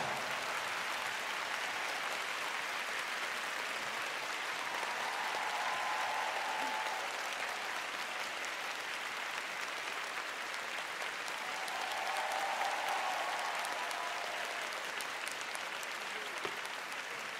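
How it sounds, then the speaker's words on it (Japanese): Steady, dense applause from a large audience fills an arena after a performance at the Fantasy on Ice 2023 figure skating show, continuous and even throughout. "大きな拍手をお願いします"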